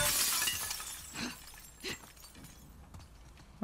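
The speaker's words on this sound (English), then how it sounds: "I'll keep smashing glass." Glass smashes in The Last of Us Part II: a loud shattering burst at the start, then a few smaller cracks and tinkling fragments that fade into quieter rustling.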